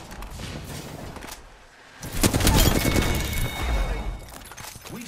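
Video game gunfire erupts in rapid bursts, with loud crackling shots and booms swelling in the middle of the clip over a busy, noisy game mix.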